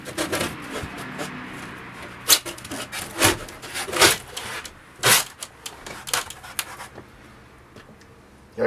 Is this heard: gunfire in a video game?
no